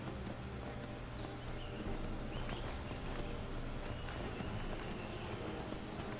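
Horse hooves pounding in a steady galloping rhythm in the video game Skyrim, faint and blended into a continuous ambient wash.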